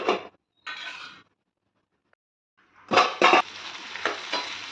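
Ginger garlic paste frying in oil in a pan while cooking ivy gourd and onion fry, with short bursts of sizzling and stirring scrapes, a pause, then louder continuous sizzle and clatter of a utensil against the pan.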